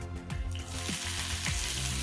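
Chopped onion and finely cut green chilli hit hot oil with crackling mustard seeds, giving a loud, steady sizzle with popping crackles throughout and no talking.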